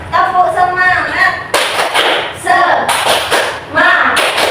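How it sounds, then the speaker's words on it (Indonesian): Classroom of fourth-grade children doing tepuk semangat, a rhythmic spirit clap: bursts of sharp, loud clapping alternate with the children chanting together. "Mari kita tepuk semangat bersama-sama."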